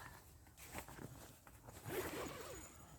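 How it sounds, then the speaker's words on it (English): A zipper drawn open along a Defcon5 bivvy shelter at a camp, a scratchy rasping run that swells louder toward the end, fairly quiet and close with no talk over it. "it zips here, she opens up."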